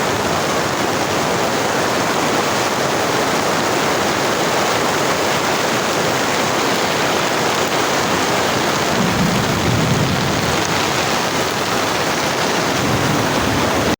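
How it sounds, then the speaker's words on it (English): Heavy rain pouring down in a dense, constant hiss, loud and unbroken from start to finish with no voices. "We have got us wet up in the rain and go home."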